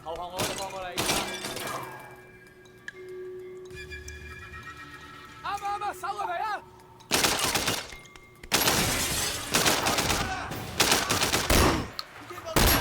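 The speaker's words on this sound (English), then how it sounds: "It's a shotgun." Loud, sharp shotgun blasts from the video game Sleeping Dogs punch through in scattered bursts, with some heavy crashes and in-game voices between the shots.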